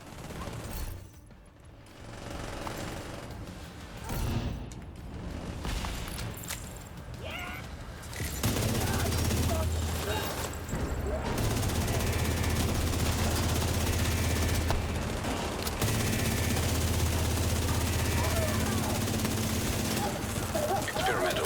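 Sustained automatic gunfire in a video game hammers on for many seconds, mag after mag, rising from quieter game noise into a loud, continuous barrage, with people talking over it.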